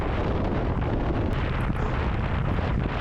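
Strong wind blows across a desolate stretch of countryside in Ireland, buffeting the microphone with a loud, constant roar and no voices.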